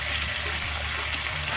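Water poured from a measure into a pan of chicken tikka masala with chopped tomatoes and tomato puree, a short steady splashing rush heard alone.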